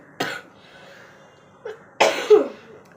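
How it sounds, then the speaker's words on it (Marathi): A person coughs twice, separate sharp bursts with a pause between, close and fairly loud in a quiet room, the second cough rougher and longer. "मी मध्ये मध्ये खोकलत असणार म्हणून तुम्हाला प्रॉब्लेमच असणार"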